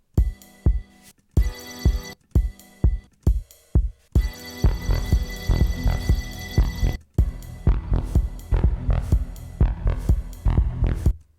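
A house track plays a punchy kick drum under a deep, throbbing bass line, starting as sparse separate hits and then settling into a steady, dense groove.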